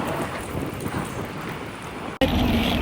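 Strong gusting wind buffets the microphone in a continuous roar, with a sudden cut and a louder rush of air resuming near the end.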